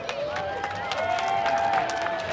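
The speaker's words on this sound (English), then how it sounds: "Give a round of applause." A live crowd at the Mile Zero Fights amateur fight event during Conch Republic Days in Key West claps for the fighters in a scattered burst of hand claps, with someone talking over it.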